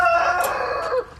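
A rooster in a chicken yard gives one loud, close crow that rises and then trails off over about a second, with no talk.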